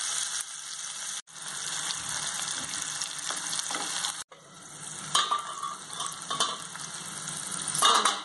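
Tomatoes cooking with salt in a covered pan over a lowered flame for a pabda fish curry: a moderate, continuous sizzle and bubbling, broken by two short gaps and growing more textured toward the end.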